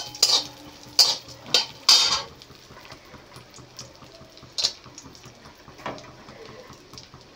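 Almonds, walnuts and chopped pistachios lightly fried in a pan, a spoon striking the pan in three sharp clanks at the start, then softer stirring and scattered scrapes over a faint background.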